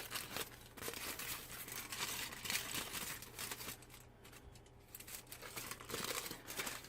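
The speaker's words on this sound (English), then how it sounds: "get some tin foil and cut it into small squares." Tin foil being cut into small squares for wrapping homemade chocolate treats, a close, quiet run of crinkling and snipping with steady rustles and brief crisp tears, no talk.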